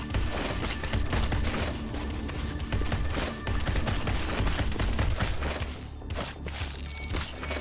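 Rapid gunfire from To Hell with Hell, a rogue-like dungeon-crawling action shooter: a dense, continuous stream of quick shots with a brief dip near the end, and no voices.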